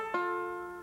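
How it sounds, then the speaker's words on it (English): One bright plucked attack on a five-string banjo, a triplet on the third string fretted at the 10th, blurs into a sustained ringing tone that fades gradually; close, solo, no voices. "do a triplet, which will sound like this."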